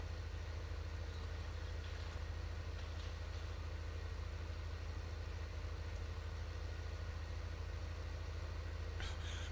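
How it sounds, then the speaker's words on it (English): Tractor engine in Farming Simulator 15 labouring steadily while pulling a baler, a constant low droning hum that holds through the whole stretch with no talk over it. "This tractor really works hard with this baler."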